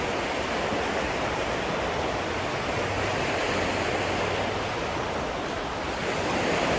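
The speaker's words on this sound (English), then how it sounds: "So right now you can hear the waves crashing in." Ocean waves roll in on the shore, producing a steady, loud, broad roar of surf that holds nearly constant, heard alone without voices.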